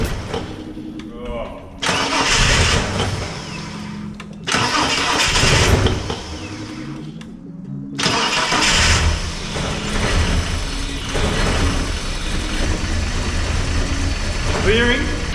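A Ford XE Falcon engine cranks repeatedly in loud bursts, sputtering as it tries to catch with no fuel pump heard, then rumbles on steadily toward the end.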